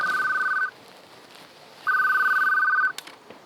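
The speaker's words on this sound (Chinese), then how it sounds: "哦，歹势，我接一个电话呢。" A telephone rings in two electronic bursts, the first about half a second long and the second about a second, separated by a quiet gap, clear and close in a quiet room.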